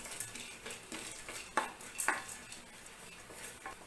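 Roasted gram is dry-roasted in a pan with coconut and sesame, making soft repeated scraping and rattling strokes of stirring with a few sharper clinks against the pan. The sounds are quiet and close.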